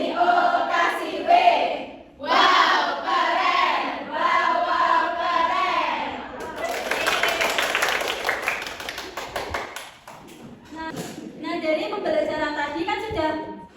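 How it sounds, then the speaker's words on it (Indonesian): Primary classroom of fifth-grade pupils performing a rhythmic clapping cheer, chanting in unison between bursts of group claps that come in short rhythmic patterns, with children's voices loud and close throughout. "kita beri tepuk wow. Ayo 1, 2, 3 tepuk wow."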